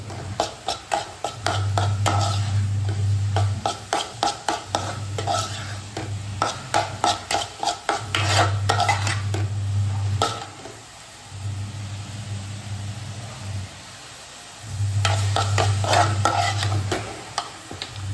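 Spinach stir-fry with turmeric being stirred in a pan, with rapid rhythmic spatula scrapes and clacks over a soft sizzle, broken by intermittent stretches of low motor-like hum.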